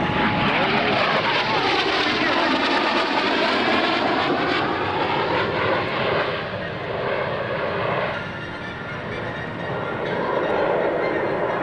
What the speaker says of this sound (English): F-117 Nighthawk is now in its break.